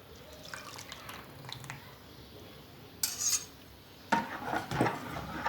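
Oil and condensed milk being mixed in a bowl with a spoon, faint soft scraping and light clinks, with a couple of louder clattering bursts near the end, close and quiet.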